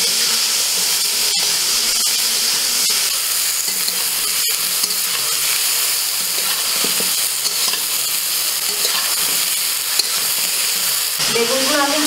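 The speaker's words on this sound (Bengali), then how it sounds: "বেগুনগুলো আমি হালকা করে ভেজে নেব, বেশি ভাজবো না" Brinjal (eggplant) pieces fry in hot oil in a kadai, giving a loud, continuous sizzle and hiss with scattered sharp crackles and pops, close up and uninterrupted.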